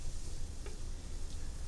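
Spinach stirred into a frying pan with oil hisses in a steady sizzle, with a couple of soft scraping stir strokes and no voices.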